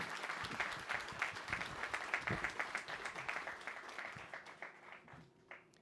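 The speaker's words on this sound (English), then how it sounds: "give them a round of applause for a job well done" Faint, distant applause from the audience at a Superior Court judicial investiture ceremony, a scattered crowd clapping that gradually tapers off.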